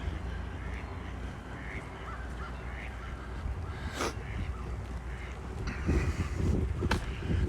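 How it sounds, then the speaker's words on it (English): Geese and ducks gather on a city lake in Regina in April, giving faint, scattered calls in the distance under steady wind and outdoor rumble, with a few sharper calls near the end. "Down there's usually geese and ducks, and there are again."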